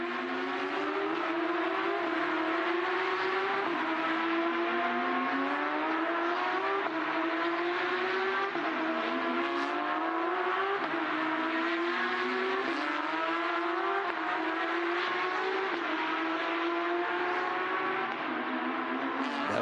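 Porsche Carrera Cup race cars from the 2021 Asia series finale scream past in a continuous loud engine roar, with repeated rising and falling gear-change sweeps as the pack circulates.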